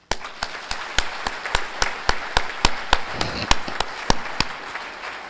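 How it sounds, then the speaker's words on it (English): Audience applause at the opening ceremony of a conference, a continuous wash of clapping with distinct sharp claps standing out at a regular rhythm, fairly near, with no talking over it. "let's give a round of applause to this chapter, please"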